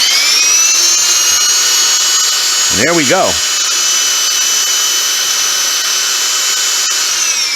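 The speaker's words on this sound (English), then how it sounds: "I am going to start up my hammer drill with this" Hammer drill powered by a Bluetti AC70 1000-watt LiFePO4 power station, a loud steady high-pitched whine running throughout, with a brief spoken phrase midway.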